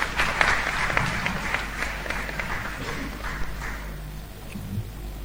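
An audience at a live-streamed event applauds, clapping strongest at first and gradually thinning and fading over about five seconds.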